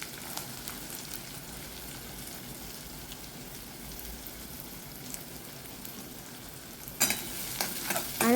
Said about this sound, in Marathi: लसूण ढवळते.